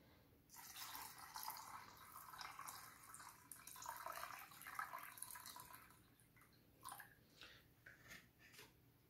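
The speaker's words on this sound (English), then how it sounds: "let's add up a little bit of water" Water runs from a tap into paint for house painting, a soft continuous splashing and trickling for about five seconds that fades into a few faint drips, with no talk.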